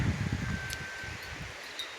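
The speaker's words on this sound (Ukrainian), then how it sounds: "Вітер." Gusty wind rustling through forest leaves after rain, with low rumbling buffets at the start that ease off into a softer, steady rustle.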